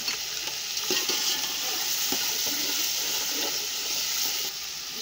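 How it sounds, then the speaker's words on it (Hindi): Garam masala tipped into a hot frying pan sizzles steadily, a bright, close hiss of oil with occasional stirring scrapes and clinks while cooking chicken wings rice. "अभी ये गरम मसाला मैं डाल रही हूँ।"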